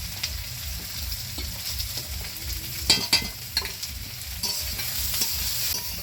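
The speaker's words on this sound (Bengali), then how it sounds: "এই যে তেল গরম হয়ে গেছে, যে রসুন দিয়ে দিলাম, রসুন বাটা, পেঁয়াজও দিয়ে দিচ্ছি" Garlic paste and onion fry in hot oil in a pan, a soft steady sizzle with scraping stirs and a few sharper clatters midway, heard up close with no voices.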